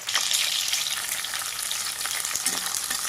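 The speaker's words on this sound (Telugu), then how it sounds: "పచ్చిమిర్చి కొంచెం ఫ్రై అయినాక బీరకాయ, టమాటా వేసేస్తాను." Green chillies, ridge gourd and tomato fry in a hot pan, with a dense, crackling sizzle and light stirring that stay loud and close for the whole short stretch.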